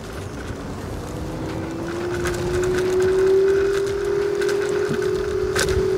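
A Synergy Aviator 2.0 dual-motor electric scooter is ridden in gear 2, a steady whining motor tone rising slowly in pitch as it accelerates, under loud wind rush against the microphone.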